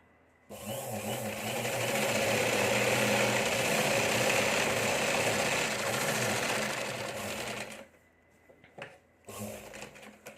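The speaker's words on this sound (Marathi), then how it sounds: "बरोबर आपल्याला ब्लाऊज पकडायचं आणि शिलाई टाकत घ्यायची आहे" A sewing machine runs steadily while stitching a blouse, a continuous close whirring hum lasting several seconds before stopping, followed by a few faint handling clicks.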